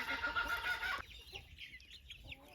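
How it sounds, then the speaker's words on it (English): Backyard chickens, including a rooster, clucking softly at a distance: a dense burst of calls at first, then scattered quieter clucks and chatter from the flock. "look at all those chickens"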